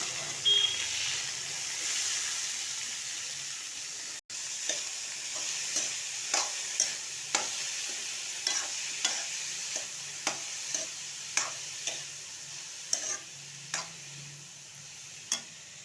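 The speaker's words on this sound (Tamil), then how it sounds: "பச்சை மிளகாய் போட்டுக்கலாம். இப்போது வாழைத்தண்டை போட்டுக்கலாம்." Banana stem and green chillies stir-frying in a pan for a stem curry, a steady sizzle with repeated scraping clicks of a spoon stirring at a regular pace, close and alone without talk.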